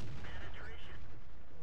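Artillery fire in the World of Tanks video game: heavy booming shots and blasts rolling through dense, continuous battle noise, loud and close throughout a short burst.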